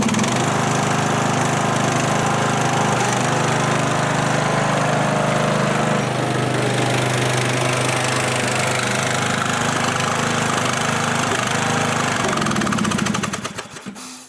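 A riding lawn mower engine runs steadily and loudly up close with a knocking, mid-pitched drone, then cuts off and winds down at the end.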